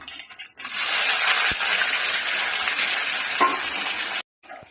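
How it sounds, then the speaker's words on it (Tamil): Small shallot, curry leaves and two dried chillies frying in oil after popped mustard seeds, a loud close sizzle that bursts in, holds for about four seconds, then cuts off abruptly. "வெங்காயம் நல்லா வதங்கட்டும்"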